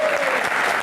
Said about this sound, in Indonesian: kita berikan tepuk tangan paling meriah untuk rekan-rekan mahasiswa yang ada di studio